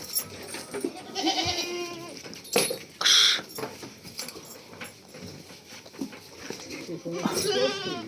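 Goats bleat in short, wavering calls amid scattered farmyard noise, with a person speaking nearby between the calls.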